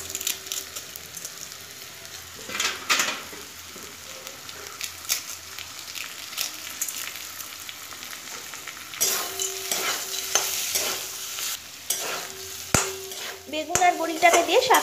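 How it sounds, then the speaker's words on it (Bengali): Greens fry with eggplant and crumbled lentil dumplings in a pan, giving a steady sizzle under repeated scraping and stirring strokes of a utensil against the pan, close by and moderately loud, with occasional clinks near the end. "বেগুন আর বড়িটাকে দিয়ে শাকটাকে ভালো করে ভাজা ভাজা করে নিয়েছি"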